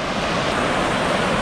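Icy river water rushes at the Condor Machay waterfall in Ecuador, a dense, continuous roar that stays loud and unbroken throughout.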